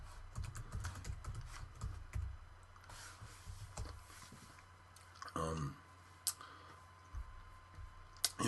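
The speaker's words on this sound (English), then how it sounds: "Excuse the typing noises." Sparse clicks of typing on a computer keyboard, close and soft, scattered in short bursts with pauses and faint low room hum.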